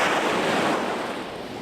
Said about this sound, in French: près de la mer, les vagues, le vent